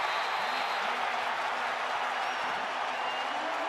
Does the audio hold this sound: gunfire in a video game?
no